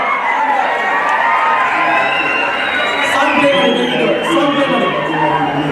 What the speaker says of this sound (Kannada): ಬನ್ನಿ ಒಂದು ಜೋರಾದಂತ ಚಪ್ಪಾಳೆ